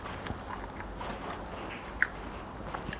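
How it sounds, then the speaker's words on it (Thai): Close, wet chewing and biting of papaya salad dressed with thick fermented fish sauce, eaten with sun-dried pork, in soft squishy irregular bites with one sharper crunchy click near the middle. "เคี้ยวให้ละเอียด ไม่งั้นจะคืนไม่ได้"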